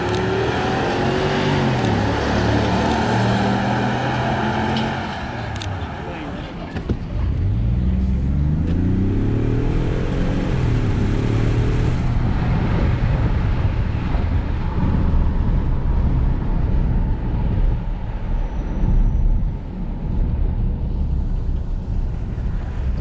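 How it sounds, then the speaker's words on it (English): 2021 Ford F-150 pickup trucks roar through a drag race, a loud sustained engine drone with rising revving sweeps and steady wind rush throughout, no talking. "We're gonna do a drag race."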